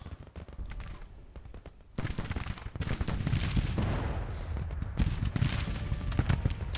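Civil War video game battle with dense, continuous musket gunfire and booming cannon fire, a brief lighter patch of scattered shots giving way to a loud, sustained roar of volleys and blasts.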